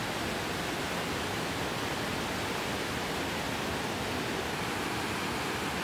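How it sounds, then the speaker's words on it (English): Rain-swollen river water rushing beneath a bridge on a mountain hiking trail, a steady, dense broadband roar that stays loud and unbroken throughout with no voices. "Water's really rushing from all the rain."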